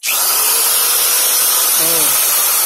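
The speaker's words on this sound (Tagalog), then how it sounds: "blower pa tayo sa electric drill natin" An electric drill fitted with a blower attachment runs at a steady loud whir, with one brief spoken interjection near the end, alongside a digital meter being installed on a panel board.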